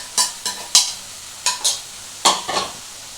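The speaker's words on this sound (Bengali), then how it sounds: "আমি এর মধ্যে কিন্তু পনিরটাকে মিশিয়ে দেবো।" Paneer is stirred into sizzling masala in a pan, giving about eight short scraping, hissing strokes in an uneven rhythm, each flaring up and fading over a low background sizzle.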